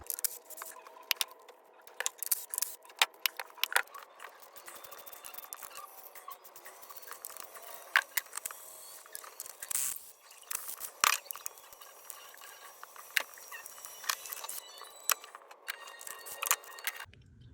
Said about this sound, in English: 10 millimeter, gonna go ahead and remove the coil packs.